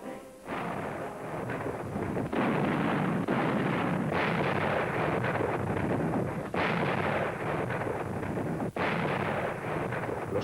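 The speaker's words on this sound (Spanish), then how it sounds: "Los cohetes y cañones de Moscú sonaban ahora para celebrar una gran serie de victorias rusas" Booming cannon and rocket salute over Moscow celebrating Russian victories in 1943, a rapid series of heavy, rumbling blasts that overlap into a continuous loud barrage.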